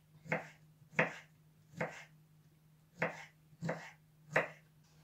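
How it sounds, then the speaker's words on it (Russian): Knife chopping fresh cucumber into thin matchstick strips on a board: six sharp, evenly spaced chops about a second apart, close and clear, with no talk. "И буду нарезать огурец свежий. Тоже мелкой соломкой."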